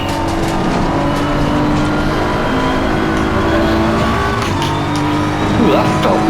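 A race car engine in Assetto Corsa Competizione at Oulton Park on a hot setup, roaring loudly and steadily under throttle with shifting tones and brief tire noise, close and continuous throughout.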